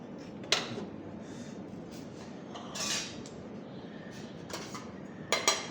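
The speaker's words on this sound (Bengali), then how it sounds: "তাহলে এবার আমি একটা স্কুপ দিয়ে এটা আগে স্কুপিং করে নিই।" A metal scoop scrapes and clinks against a plate while portioning rice, with a few sharp isolated clatters spread over a quiet background.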